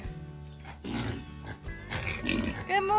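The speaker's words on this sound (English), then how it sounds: "The pigs are always really excited once we get closer" Pigs on a farm grunt and squeal excitedly at morning feeding time, several close animals overlapping in a busy, continuous din.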